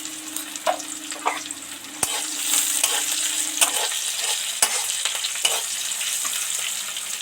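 A pinch of sugar drops into hot oil in a pan, a steady frying sizzle with stirring scrapes and a few sharp knocks of a utensil, close and continuous.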